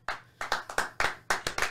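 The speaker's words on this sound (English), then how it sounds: "Clap it up for Mario" A small group claps for Mario in about ten sharp, uneven hand claps, close and distinct, with short pauses between bursts.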